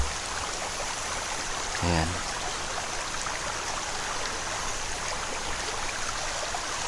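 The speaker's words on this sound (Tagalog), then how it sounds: "merong ilog dito" A river flows steadily in a broad, constant rush of water that fills the whole scene, with a brief thud near the start and a short spoken word over it.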